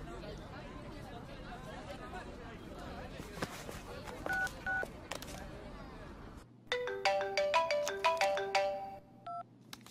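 A mobile phone rings in a movie scene, its melodic ringtone repeating loudly and close after a stretch of background chatter and voices.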